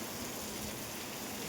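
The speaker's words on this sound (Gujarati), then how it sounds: "પાણી કેવું જાય છે જો બે ફામ વરસાદ વરે છે" Heavy unseasonal rain pours down on farmland, a dense, even hiss of falling water heard faintly and steadily for a brief moment, with no voices.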